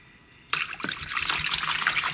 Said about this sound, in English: Here's some nice and warm water going in the bathtub for the little baby